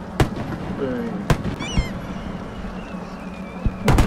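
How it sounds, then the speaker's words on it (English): Fireworks in the city-building game Cities: Skylines, a few sharp booms spaced apart over a low steady game ambience, with faint whistles and crackles between them. "Oh, there's some fireworks already."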